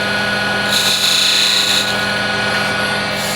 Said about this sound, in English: with the skew, I'll just make a nice little chamfer here and here as well